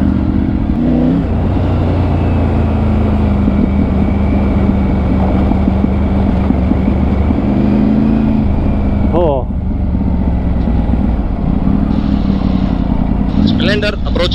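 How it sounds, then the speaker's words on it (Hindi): Two Royal Enfield motorcycles approach on an off-road trail, their steady engine drone loud and continuous throughout, with people talking over an intercom on top of it. "To motorcycles approaching. स्प्लेंडर्स नहीं, रॉयल एनफील्ड्स."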